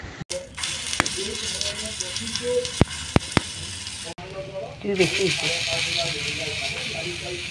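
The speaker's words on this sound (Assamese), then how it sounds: "এয়া জুইত টাৱাখন বহাই দি তাত তেল দি এই মিশ্ৰণখিনি ভালদৰে ভাজি ল'ম" Banana-fritter batter frying in oil on a tawa gives off a hissing sizzle, partly buried under nearby talking and brief clatter, then swelling louder toward the end.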